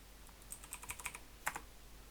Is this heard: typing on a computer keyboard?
yes